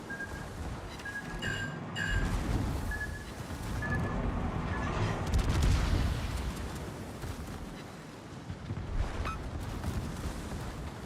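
Shore battery guns firing from long range at a warship in a naval battle game, distant booming blasts and rumbling impacts rolling through, accompanied by whistling tones and scattered sharp pops.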